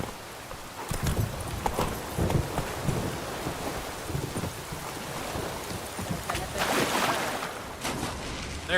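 Horse hooves clip-clopping at a steady gallop in The Witcher III, a continuous rhythmic thudding carried along with wind and rain ambience that swells near the end.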